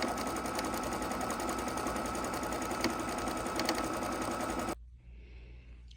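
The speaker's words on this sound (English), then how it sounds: "we're just taking a straight stitch right down the other end of our strap as well" A sewing machine runs a steady straight stitch down a tote bag strap, a continuous close mechanical whir that stops abruptly near the end, leaving quiet room tone.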